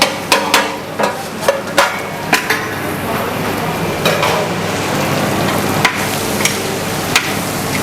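Onions and spring onions fry in a pan while a spatula stirs them, sharp metal knocks and scrapes repeating over a steady sizzle, close and clear, with faint talk.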